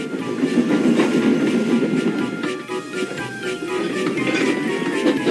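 Steam engine train in a Roblox game rolling along rails with a rhythmic clatter and chugging rumble, steady and fairly loud, with faint whistle-like tones above it.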